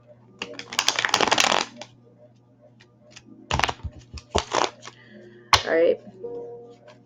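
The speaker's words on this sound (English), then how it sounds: "One more shuffle." Tarot cards are shuffled in a few quick riffling bursts, with a long rustle first and shorter flicks and taps later, close up, while a person talks in between.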